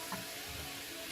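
Onions softening in a hot pan give a quiet, steady sizzle and light frying crackle that holds at an even level throughout, with no talking.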